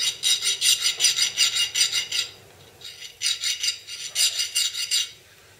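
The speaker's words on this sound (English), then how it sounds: "I'll clean that up with a file" Rhythmic rasping strokes of a hand file on metal, about a dozen quick back-and-forth passes, a short pause, then another run of strokes, close and clear.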